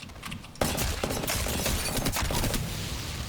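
Rapid hip-fire bursts from the Prowler in Apex Legends, a dense run of sharp shots starting abruptly after a quiet half-second and continuing loud and steady to the end, with no talking.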